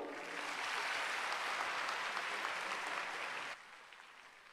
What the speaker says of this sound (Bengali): একটু করতালি হোক